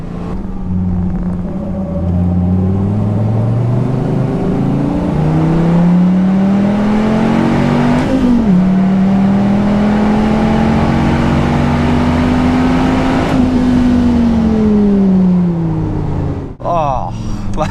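A Dodge Viper ACR's engine is pushed hard on a race track, a loud, close, continuous drone whose pitch climbs steadily through the gears, with brief dips at shifts before rising again.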